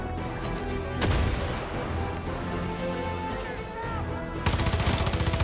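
Bursts of rapid gunfire in a Rambo video game, loud and dense, with a heavier volley near the end over a busy game soundtrack.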